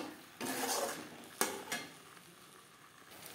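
A spatula scrapes and stirs paneer with peas, potatoes and spices in a pan for matar paneer, a few close scraping strokes and a clink over a soft sizzle, otherwise quiet.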